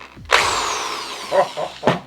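A handheld power drill whirs loudly in a long burst, then gives a few shorter stop-start bursts in a close workshop.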